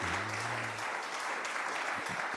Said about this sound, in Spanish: Le damos un aplauso de bienvenida a estos hermanos